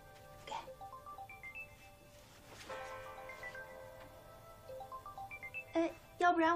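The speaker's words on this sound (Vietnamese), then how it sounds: "Vivi, có điện thoại nè" A phone ringtone chimes in short repeated melodic bursts during a scene of a Chinese romance drama series, moderately quiet, with a voice briefly heard near the end.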